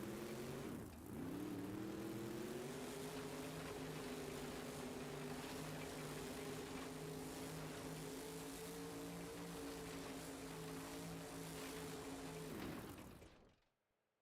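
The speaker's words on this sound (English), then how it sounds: "Gonna finish off the run with some donuts." Monster truck engine revving steadily at high pitch while the truck spins donuts in an indoor arena, loud and continuous before cutting off sharply near the end.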